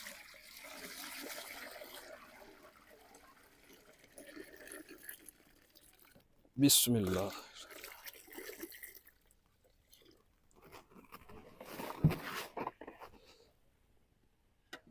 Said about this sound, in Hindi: और पतीले में शामिल करते हैं जी पानी।